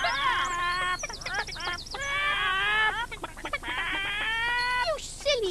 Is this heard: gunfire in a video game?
no